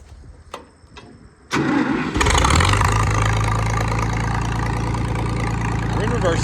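A 560 tractor engine cranks over, catches with a rising roar, then settles into a loud, steady, close idle with a low rumble that holds to the end, after a few sharp clicks and clunks at the start.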